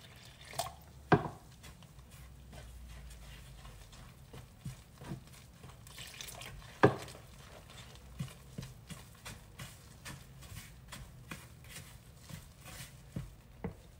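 Msemmen dough being worked by hand in a bowl with lukewarm water, giving soft wet slaps and sticky clicks at an uneven pace, close and fairly quiet, with two sharper knocks and no voices.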